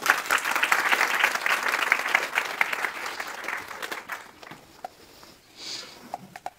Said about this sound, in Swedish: Så, vi börjar nu med en varm applåd.